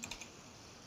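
Keys on a computer keyboard tapped in a short, quick burst of three or four soft clicks at the start, then quiet room tone; faint and close.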